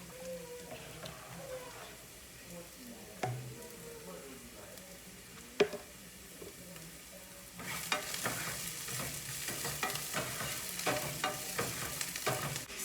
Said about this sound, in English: So I'll go ahead and stir up the lasagna noodles.